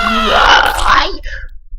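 A squashed bean character in a Thai flash game lets out a loud, wailing scream lasting over a second, harsh and strained, before cutting off into quiet.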